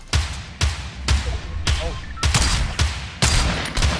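Rapid bursts of gunfire in a Fortnite squad match, seven or so sharp loud shots spaced about half a second apart, each followed by a short ringing tail over a steady low background.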